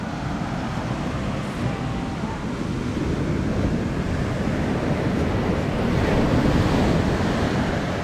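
Ocean waves wash steadily onto a secluded tree-lined beach near Barra do Riacho, with heavy wind buffeting throughout, a constant loud roar with no pauses.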